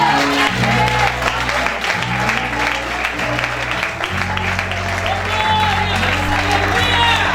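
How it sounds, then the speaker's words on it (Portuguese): Congregation applauding during a church service, loud sustained clapping mixed with music and voices underneath. "Quem pode aplaudir, irmão?"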